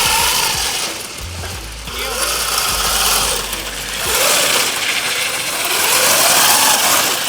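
An electric drift kart spins donuts, its motor whining in rising and falling sweeps, with a rough mechanical rattle and tyre scrub across the stretch, close and fairly loud, no talking.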